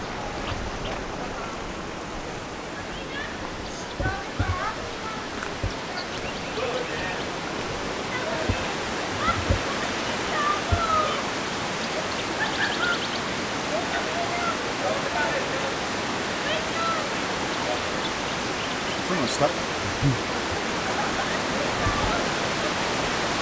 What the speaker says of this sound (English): Out here at the big falls,